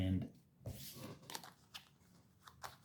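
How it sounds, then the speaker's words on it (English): A small packet of playing cards is shuffled by hand, giving a series of quick, soft papery riffles and flutters close by with brief pauses between them. "We give them a shuffle"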